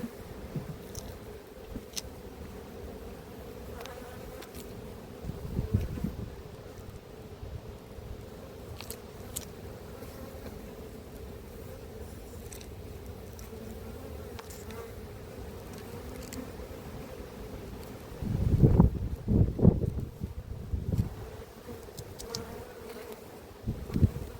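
Honey bees buzz around an apiary hive, a steady low drone of many insects close by, with a few louder passes as individual bees fly near, swelling briefly toward the end.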